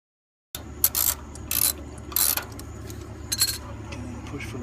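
Screws on an air conditioner capacitor bracket are loosened by hand, giving several short, close scraping and ratcheting bursts over a low background hum, with no one talking.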